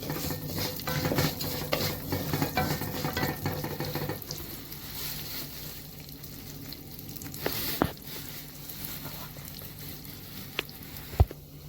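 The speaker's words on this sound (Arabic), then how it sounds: "في نفس الزيت برضو يا جماعه اللي قلتلكوا عليه حط الشعريه" Vermicelli pasta frying and being stirred in oil in a home kitchen for koshari, a steady close sizzle with scraping stirs, getting quieter after the first few seconds, and a couple of sharp utensil clicks near the end.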